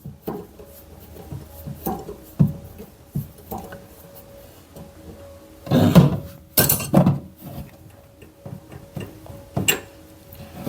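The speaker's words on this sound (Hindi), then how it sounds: "तो चलिए मैं यहाँ पर इस बोल्ट को खोलता हूँ।" A wrench works loose a bolt on a washing machine (spin dryer) motor, giving irregular metallic clinks and ratcheting taps, with a louder burst of scraping clanks midway, close by and without talk.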